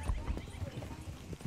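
Horse hooves clip-clop in Red Dead Redemption 2, a steady run of soft thuds close by, with voices talking over the footfalls.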